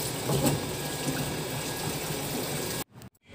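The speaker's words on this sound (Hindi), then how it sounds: "मैं ना मशीन में ही कपड़े खंगाल लेती हूँ क्योंकि कौन निकालेगा।" A washing machine rinsing clothes, its motor running with a steady churning water rush and low hum close by, cutting off abruptly near the end.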